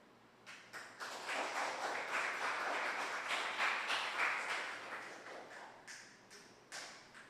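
A poetry slam audience applauds in a sustained wave of clapping that swells after a few scattered early claps, holds steady for several seconds, then thins out into isolated claps near the end.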